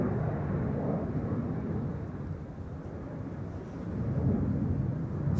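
Low rumbling roar of an Embraer 190 jet taking off from Amsterdam Schiphol's Polderbaan runway, a deep, distant thunder-like rolling noise that swells and eases over a few seconds, no talk.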